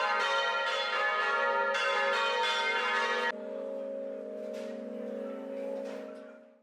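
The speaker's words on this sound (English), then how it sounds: "Then, the bells clang." Bells of the St. Domnius bell tower clang loud and close in a dense ringing burst, then give way to a sustained humming resonance that slowly fades.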